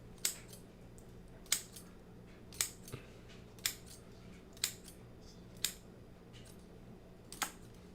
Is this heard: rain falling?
no